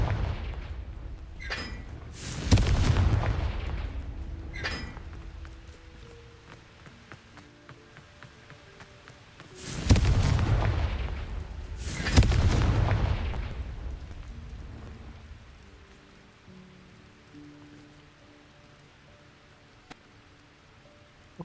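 Fiery Confringo spell blasts in Hogwarts Legacy, several loud booming explosions arriving in pairs, each with a crackling roar that fades into a rumbling tail, separated by quieter game ambience.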